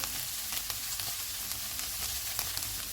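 Minced beef fries with onion and green chillies in a hot pan, a dense, steady close sizzle with light scraping stirs throughout, no voices.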